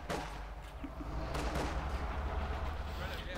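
Anti-tank rocket fire and battlefield explosions from the Company of Heroes 2 strategy game, a dense, continuous roar of blasts and gunfire with a few sharper reports standing out, loud throughout with no voice over it.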